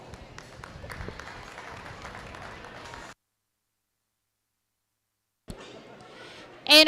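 A crowd claps at a county junior goat show in an arena, a moderate continuous patter of applause with background noise that cuts to silence, then resumes briefly before a sudden loud burst at the end.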